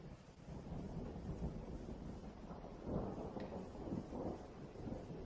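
Faint rain falls with low, distant thunder rumbling through a windy outdoor scene, the quiet wash swelling slightly a few times with no voices.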